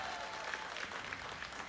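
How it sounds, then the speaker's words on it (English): Concert audience clapping, a faint, even spatter of applause from a crowd at some distance, continuous and without distinct voices. "When you guys clap, it gives me energy"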